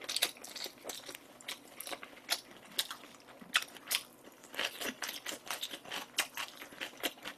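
Crunchy bites and wet chewing of Pizza Hut black-crust oriental seafood pizza topped with squid and shrimp, close to the mouth, in irregular bursts of crackly mastication with no talking.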